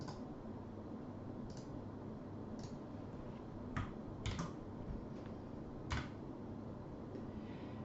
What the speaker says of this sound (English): Let's type in our final query here.